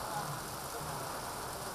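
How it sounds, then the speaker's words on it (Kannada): Heavy rain pours down steadily across Udupi district near Kollur, a dense, even hiss of falling water with no breaks. "ಕೊಲ್ಲೂರು ಭಾಗದಲ್ಲೂ ಕೂಡ ಸಾಕಷ್ಟು ಮಳೆಯಾಗ್ತಾ ಇದೆ."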